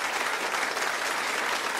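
A TV studio audience at a 500th-show game broadcast claps in a dense, steady roar of applause, loud and close throughout with no voices on top.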